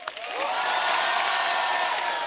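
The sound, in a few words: studio audience applause welcoming guests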